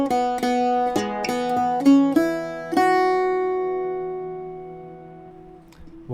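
Irish bouzouki playing a melodic line, a run of plucked, ringing double-course notes that ends on a long sustained note fading out, played solo and up close.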